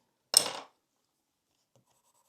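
A Faber-Castell Polychromos coloured pencil makes one quick, soft scratching stroke across paper, close and alone, followed by near silence.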